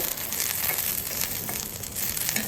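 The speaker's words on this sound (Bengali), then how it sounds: "এভাবে মরিচগুলোকে নাড়াচড়া করে ফ্রাই করে নিলেই আমার হয়ে গেল" Green chilies stirred and frying in a hot pan for a mashed bharta dish, with a steady crackling sizzle and scraping that continues throughout.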